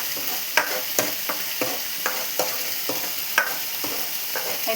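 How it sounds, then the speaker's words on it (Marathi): Masala for fish curry gravy sautéing in a pan, a steady sizzle broken by regular scraping stirs of a spoon, close and clear with no talk. "ग्रेव्ही करण्यासाठी मसाला आपल्याला चांगला परतून घ्यायचा आहे."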